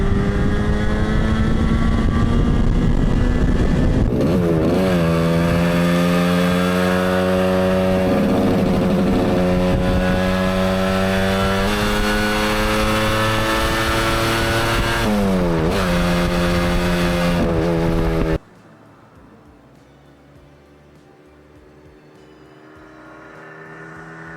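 A loud two-stroke Moto Guzzi motorcycle engine revs and drones steadily while riding, its pitch rising and falling with gear changes, then cuts away abruptly to quieter road noise near the end.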